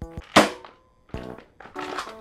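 A cheap plastic airsoft gun firing: three short, dry, hollow shots spaced apart, each a sharp crack with a brief ringing tail, close and moderately loud with quiet gaps between.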